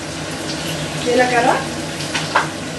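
Cumin, onion and peppercorns sizzle softly in a pan for Andhra pepper rasam, a steady frying hiss close by with a few brighter crackles while someone talks over it.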